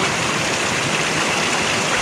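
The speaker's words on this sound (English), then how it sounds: "Check out this water." Stream water flowing in Puerto Rico, a loud, steady rushing wash of moving water heard up close and unbroken throughout, with no clear talk over it.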